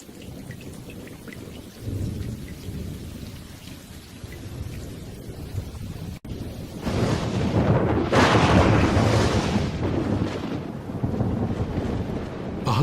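A thunderstorm with steady rain pattering on surfaces and low rumbling thunder, swelling partway through into a loud, broad crash that rolls on and then slowly fades.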